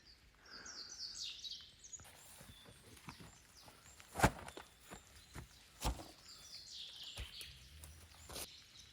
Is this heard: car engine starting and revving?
no